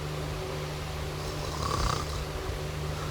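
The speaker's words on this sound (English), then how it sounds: "What we want to know is how an apple can snore." Snoring of an apple character in the video game Reverse: 1999, a single slow, rumbling snore swelling in the middle over a low constant hum, close and moderately loud.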